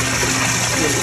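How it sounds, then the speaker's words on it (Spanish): Water gushing steadily out of a pump hose around a house under construction, a loud continuous rushing hiss close by. "El agua saliendo."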